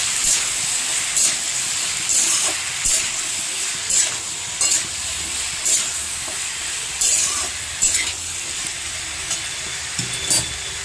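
Potatoes fry in a pan with salt and Kashmiri chilli powder, a steady close sizzle and hiss punctuated every second or so by the scrape and knock of a spatula turning them.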